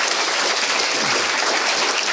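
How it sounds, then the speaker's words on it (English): Audience applause at a closing session of lightning talks, honoring a committee member who handled booking; dense, steady clapping fills the whole moment without letup. "Everyone just give her like an hour's worth of applause"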